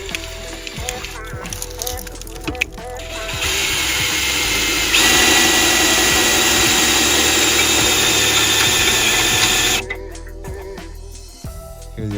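A corded drill priming the oil pump on a 1997 Chevy 350 Vortec 5.7L V8, a steady loud whine that ramps up and holds for several seconds before cutting off, with brief voices and clatter before and after.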